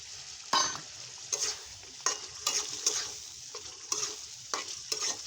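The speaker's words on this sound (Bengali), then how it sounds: "এটা ভালো করে নেড়ে চেড়ে মিশিয়ে ঢেকে দিব।" Shrimp and diced potatoes with spices being stirred in a pan for a shrimp and greens dish, with a steady sizzle and repeated scraping strokes of a spoon at an uneven rhythm, close and moderately loud.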